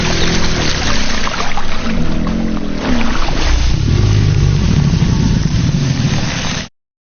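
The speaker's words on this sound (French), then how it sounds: "En faisant vibrer leur corps à la surface de l'eau, ils provoquent de nombreuses éclaboussures qui donnent ce type de son." A male crocodilian vibrates its body at the water surface in a courtship display, throwing up dense, continuous splashing and sloshing with a deep low rumble, loud and close throughout before cutting off abruptly.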